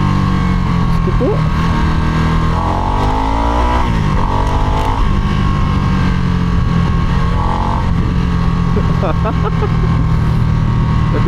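A Harley-Davidson Nightster in sports mode roars loud and close through eleven seconds of riding, its pitch rising and falling as the throttle opens and eases, while a rider's voice talks over the engine.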